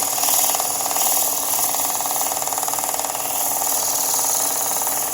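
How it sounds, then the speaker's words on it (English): Sandpaper held against a natural edge wooden bowl spinning on a woodturning lathe, a loud continuous rasping hiss over the lathe's steady whir, with no pauses. "And then I'll take and I'll sand this."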